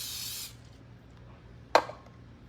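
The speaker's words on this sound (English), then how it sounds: "spray it with some vegetable spray" Vegetable oil cooking spray hisses into a mixing bowl in one steady half-second burst, followed by quiet and a single sharp clack of the bowl or can.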